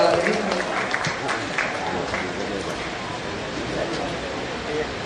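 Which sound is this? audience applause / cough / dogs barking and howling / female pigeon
audience applause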